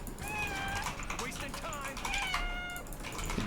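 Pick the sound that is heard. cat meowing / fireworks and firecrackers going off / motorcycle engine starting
cat meowing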